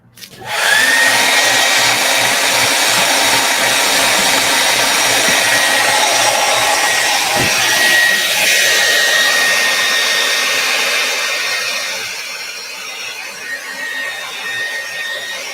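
Electric hair dryer blowing steadily on a drying art project, a loud continuous whine and whoosh with a faint high tone, easing slightly near the end.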